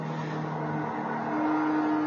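Racing-game car engine holding a steady drone as it comes out of a corner, then the pitch climbs as the car accelerates, loud and close with no talk.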